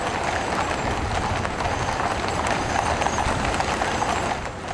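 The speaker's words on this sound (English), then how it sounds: "68 horses and 50 riders pulling their guns through central London are quite a sight." Many horses of the King's Troop pull guns through central London streets, their hooves making a dense, continuous clatter of overlapping clip-clops, loud and steady throughout.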